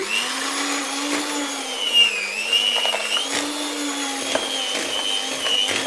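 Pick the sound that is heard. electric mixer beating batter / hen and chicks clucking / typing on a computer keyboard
electric mixer beating batter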